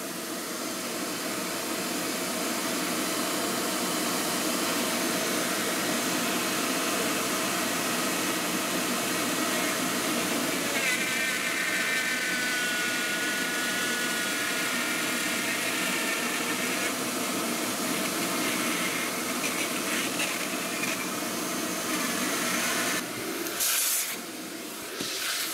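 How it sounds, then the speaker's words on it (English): A shop vac runs steadily and fairly loud through the whole stretch as a broad, constant hiss-like roar, with a brief dropout near the end, in a workshop where a model railroad backdrop and tunnel are being built. "I'm going to turn on the shop vac."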